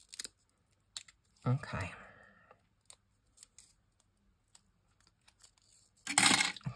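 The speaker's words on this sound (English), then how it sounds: "This is a little big, so I'm just going to cut it in half, I think." Scissors snip through paper in close, crisp cuts, a longer slicing pass early and another sharp burst at the end, with scattered small clicks and a brief spoken word between.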